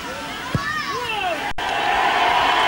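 Stadium crowd at a 1997 Leeds Rhinos versus Adelaide Rams rugby league match roaring after a Leeds penalty goal, a broad sustained cheer with whistles, under a commentator's voice, swelling toward the end.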